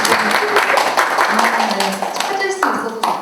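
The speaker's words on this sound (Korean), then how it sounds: "이쯤에서 한번 박수 쳐주셔야겠습니다." An audience at an education conference on math instruction claps steadily throughout, a dense patter of applause with a voice talking over it.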